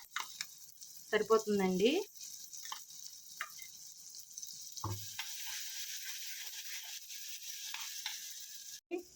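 Ground raw mango and coconut chutney hits hot oil with a brief loud sizzle and stirring, then a low steady frying hiss continues under occasional clatter, with a short spoken remark.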